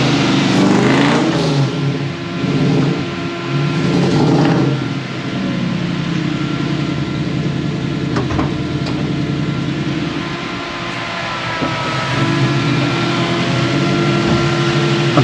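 A Toyota Surf's 1UZ V8 engine with faulty coil wiring idles loudly and unevenly, its steady rumble stumbling and surging at intervals, close by with no talking.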